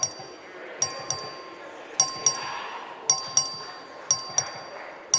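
Voting bell in the Texas House chamber during a record vote, sharp metallic dings repeating in irregular clusters over a murmuring room.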